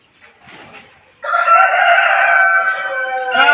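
A Goliath hen gives a few soft clucks, then a loud, sustained crow-like squawk rings out close by, ending with another rising call.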